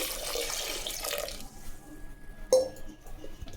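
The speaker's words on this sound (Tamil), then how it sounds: "தேவையான தண்ணி ஊற்றி" Water runs and splashes steadily into a pot of sambar for over a second, then fades out, followed by a sharp clink of metal and quieter handling sounds.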